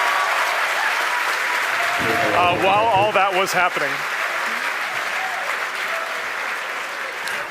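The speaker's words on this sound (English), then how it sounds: "The crowd's going nuts here at SpaceX headquarters in Hawthorne." A crowd at SpaceX headquarters in Hawthorne claps and cheers loudly and continuously, while someone speaks briefly over the applause.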